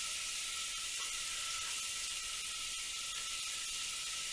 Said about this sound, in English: Now that our butter is melted down, add in some of our minced onion.